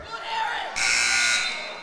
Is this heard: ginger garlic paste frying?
no